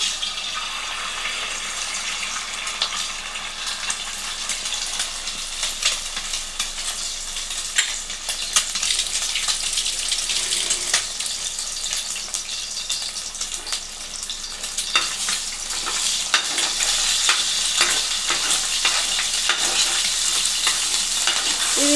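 An egg fries in hot oil in a pan, giving a loud, steady sizzle that crackles for the whole stretch, with a few scraping stirs and light splashy, watery bursts and no talking.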